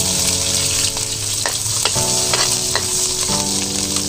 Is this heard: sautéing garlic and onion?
yes